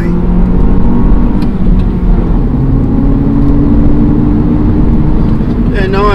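A sporty Mini Cooper S revs and accelerates along a main road, the engine roaring loud and near from inside the car with a sustained low drone and shifting pitch, a voice talking over it throughout.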